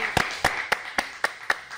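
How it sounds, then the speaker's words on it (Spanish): Steady, evenly spaced claps ring out, roughly four per second, crisp and fairly close. "un aplauso para Elizabeth"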